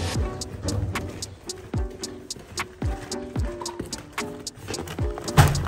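Horse hooves clop on a hard surface in a steady, unhurried walking rhythm, each step sharp and close.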